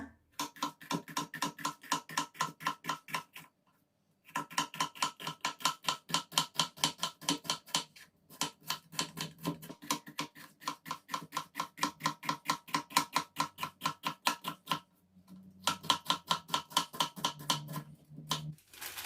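Steady, rapid knife chops on a cutting board, evenly spaced thin slices of bitter gourd in long runs with brief pauses, close and crisp.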